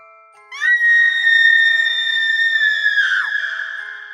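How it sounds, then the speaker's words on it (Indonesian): A girl screams in terror, a long sustained high-pitched shriek with a sharp onset that wavers and breaks near the end, loud and alone with no talk, as a horror story sound effect. "Mia menjerit ketakutan."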